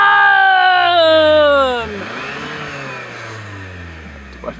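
Engine of a 2015 Hyundai Sonata Turbo revs up loudly with rising harmonic pitch through about two seconds, then drops and settles into a lower, quieter drone, with a brief click near the end.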